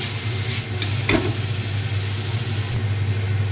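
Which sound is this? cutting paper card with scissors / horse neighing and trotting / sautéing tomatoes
sautéing tomatoes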